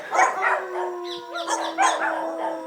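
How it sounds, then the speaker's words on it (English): Dogs guarding a villa in Pairumani, Bolivia bark and howl in a drawn-out chorus, several voices overlapping close by with sustained wailing tones and sharper yips, and no talk. "These are the dogs protecting the Harry Potter building in Pairumani"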